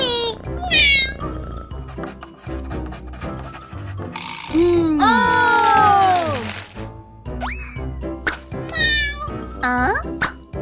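A cat meows repeatedly in a children's Halloween cartoon, with several clear rising and falling cries mixed with music and sound effects while characters talk.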